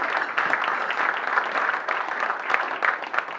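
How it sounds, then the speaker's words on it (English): Attendees at a Rotary club meeting applaud the greeters, giving a loud, full burst of continuous clapping in a room that stays steady throughout. "So let's give them a round of thanks and applause."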